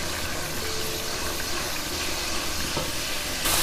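Beef trotters and masala frying in a pot for Lahori paya, a steady hissing sizzle with faint scrapes and a brief louder burst near the end, close, no talk.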